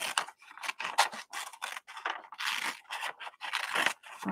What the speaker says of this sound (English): I'm actually cutting this one around just because